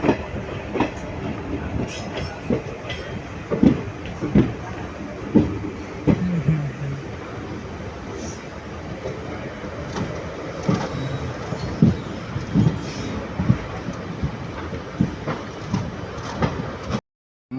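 A passenger train on the Karur to Tirunelveli line rolls along the rails with a steady rhythmic clickety-clack. Recurring wheel thumps sound close and loud throughout, with no voices.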